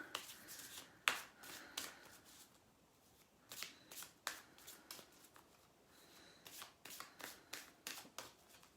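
A deck of oracle cards is shuffled by hand, giving soft riffling and slapping bursts up close and quiet, with a sharper snap early on and a steady run of flicks toward the end.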